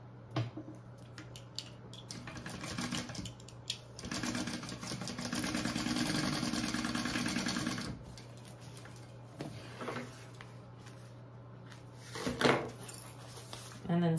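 A sewing machine stitches the gusset seam of a bag, running in a rapid ticking burst in the middle, surrounded by scattered clicks and quiet handling noise under a low steady hum.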